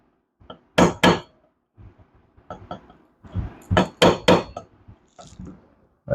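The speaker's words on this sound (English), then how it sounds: "You can just hammer this out." Sharp metallic hammer strikes drive out a pin from a CZ TSO pistol during disassembly, with two loud blows, a pause with light taps, then a cluster of three or four strong hits close by.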